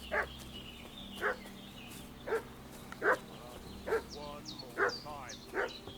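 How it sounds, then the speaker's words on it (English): A dog in the video game Kingdom Come: Deliverance II barks and fusses in a steady series of about eight short yaps and whimpers, each roughly a second apart, over a quiet ambient background. "What's that dog making such a fuss about?"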